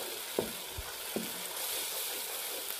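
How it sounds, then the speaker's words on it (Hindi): Spice masala roasting in a pan for a mutton-keema-stuffed tinda curry, a steady faint sizzle with a couple of soft stirring scrapes, no talking. "और ये मैं मसाला भून रहा हूँ।"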